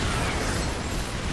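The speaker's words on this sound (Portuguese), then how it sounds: "Solta aqui a bombinha." A bomb detonates in StarCraft II co-op play on the Malwarfare mission with Terran commander Tychus, giving a loud, dense burst of crackling, rumbling noise that fills the whole brief moment.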